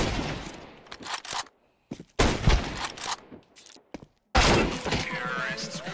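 Sharp bursts of Counter-Strike 1.6 gunfire from scout sniper rifles fired without the scope come in clustered volleys separated by abrupt silences, loud and close, with someone speaking over parts.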